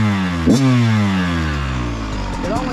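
A Kawasaki KX 112 power valve dirt bike engine revs up sharply, then winds down and rises again, a loud nearby two-stroke blare with rising and falling pitch and a faint voice under it.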